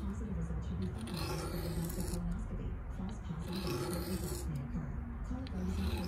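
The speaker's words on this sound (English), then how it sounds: "this mini griptilian that I'm sharpening right now" A Benchmade Mini Griptilian knife drawn repeatedly across a whetstone gives steady rasping strokes in a continuous rhythm, close and fairly loud, while a person talks over it.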